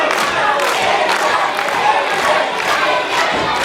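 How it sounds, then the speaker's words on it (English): Dense, loud roar of a partisan British wrestling crowd cheering and shouting continuously during a match between Steve Savage and Alan Lee Travis, with occasional thuds beneath. "as you can hear, this is a partisan British crowd, very much on the side of the Englishman"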